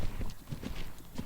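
Horse hooves clip-clopping in a horse riding video game, a jumping horse, in a steady rhythm of close, distinct hoof strikes with no talk.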